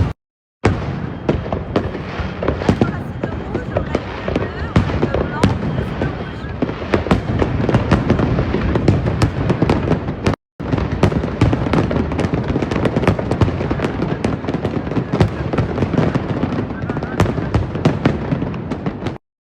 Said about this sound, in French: On ne voit plus la tour Eiffel tellement il y a de feux d'artifice